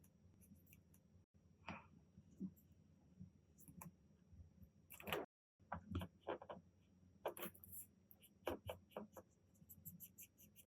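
Ohuhu alcohol markers scratching and squeaking across paper as colors are blended, faint, close-up strokes in short irregular bursts separated by quiet pauses.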